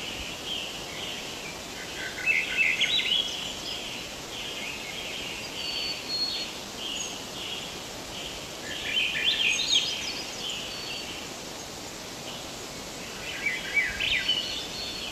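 A thrush sings clear, flute-like phrases in three separate bursts, spaced several seconds apart over a soft, steady outdoor background.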